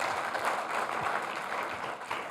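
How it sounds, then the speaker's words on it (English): A lecture audience applauding a speaker as he takes the stage, steady dense clapping from many hands throughout, fairly close and even in loudness. "it's a bit early to be clapping"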